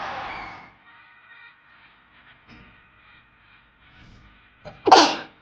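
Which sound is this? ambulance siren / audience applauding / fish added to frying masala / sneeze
sneeze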